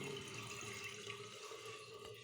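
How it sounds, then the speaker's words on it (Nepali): Water running from a toilet cistern inlet valve with its pin removed, a steady faint rushing flow with no talk. "पिन बाहिर निकाल्ने, यसरी पानी आउँछ"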